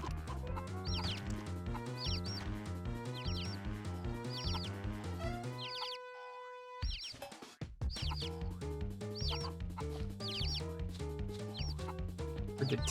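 Cartoonish clucking from chickens in the video game Mort the Chicken repeats in quick bursts over steady looping game music, which cuts out briefly midway before resuming with more clucks.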